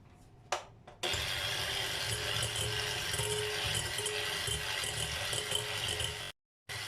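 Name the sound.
whisking ingredients for homemade Kinder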